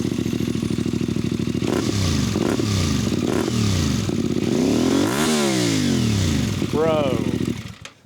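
A CFMOTO Ibex 450 motorcycle fitted with a Yoshimura slip-on exhaust idles loudly up close, then is revved repeatedly in quick rising and falling blips, ending with one big rev that drops back before cutting off.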